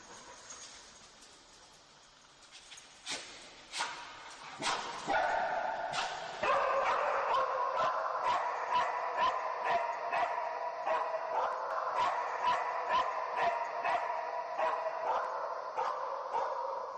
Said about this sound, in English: That's the dogs, Sandra.